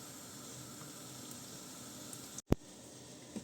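Oil heats in a pan ready for frying spinach, giving a steady low hiss with one sharp pop or crackle near the end and a faint tick after it, with no voices.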